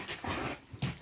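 Dog whimpering and panting, a few short breathy bursts of soft whines close to the microphone, faint and brief.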